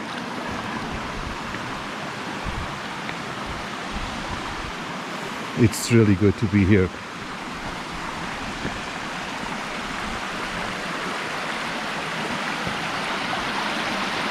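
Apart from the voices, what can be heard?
fresh mountain water flowing into a natural swimming pool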